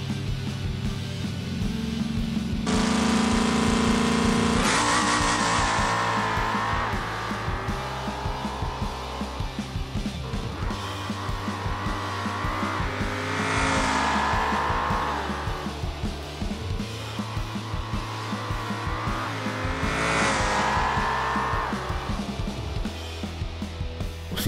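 A Bastion car races flat out down a highway in the BeamNG driving game. The engine roars loud and continuous, climbing through several gear shifts, with each rising whine dropping back as the next gear engages.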